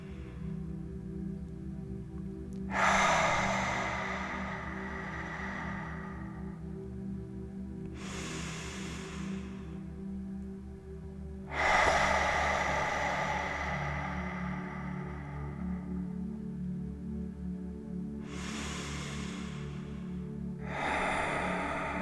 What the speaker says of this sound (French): on commence par se connecter à notre respiration et on lâche quelques soupirs pour relâcher les tensions